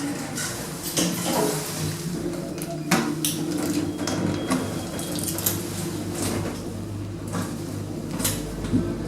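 Roughly 25-year-old Kone M series lift doors glide closed with light knocks and a continuous motor hum, while a voice speaks faintly in the background.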